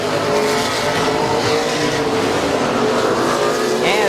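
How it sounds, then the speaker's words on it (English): Race cars circling a speedway oval, braking hard into the corners, give a continuous loud engine roar with a brief tire squeal near the end. "As the 17 of Lagden, he's really doing some heavy braking in the corners."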